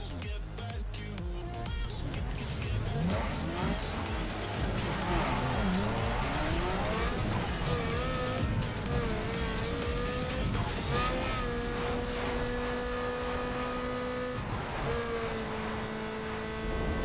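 Cars in a drag race in the street racing game Need for Speed Underground 2, with loud engines roaring and revving, tires squealing and skidding, then sustained high engine tones, and someone speaking at times.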